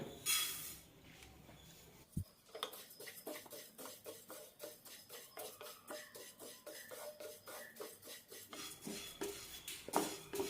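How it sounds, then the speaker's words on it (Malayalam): Flaxseed roasts in a dry pan, stirred with a utensil in a steady run of scraping, rasping strokes and light clinks, close and fairly quiet, with a sharp knock near the start. "ആദ്യം ഫ്ലാക്സ് സീഡ് വറുത്തെടുക്കാം"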